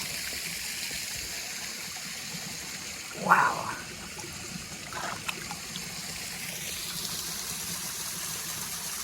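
Water flowing steadily at Yellow Spring in Yellow Springs, Ohio, a constant rushing trickle heard close by, with a brief spoken exclamation partway through.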